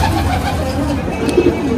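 Golden Kamagar pigeons of one generation coo low and close in a soft, continuous murmur, with no talk over them.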